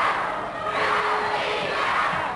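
Wrestling arena crowd at a tag-team bout cheering and shouting in a loud, sustained roar, with excited voices surging throughout and no commentary over it.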